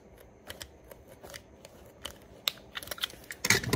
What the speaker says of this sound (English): Now I'm gonna cut along this side here.